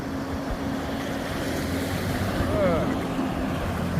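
A creek rushes steadily around legs wading ankle-deep, a constant broad wash of flowing water with some wind buffeting the microphone.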